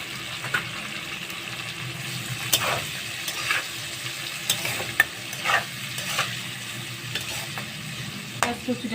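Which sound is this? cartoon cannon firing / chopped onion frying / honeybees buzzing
chopped onion frying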